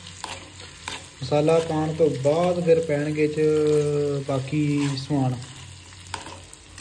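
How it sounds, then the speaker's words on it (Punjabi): Maggi noodles frying in butter while a spiced tempering is stirred in the pan, a steady sizzle running beneath a person talking at length. "ਅਤੇ ਦੇਖੋ ਬਟਰ ਬਟਰ ਹੋਇਆ ਪਿਆ, ਤੜਕਾ ਲੱਗ ਰਿਹਾ"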